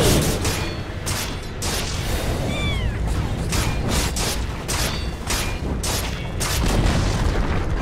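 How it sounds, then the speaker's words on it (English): Dota 2 match, a middle tower being destroyed: heavy booming game impacts and crunching mechanical effects run continuously, with repeated sharp hits and a brief whistling sweep in the middle. "Dire's middle tower has fallen."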